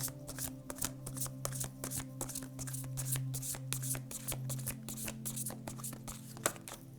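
Tarot cards being shuffled, a quick run of crisp riffling flicks repeating steadily and close, with a low constant hum underneath.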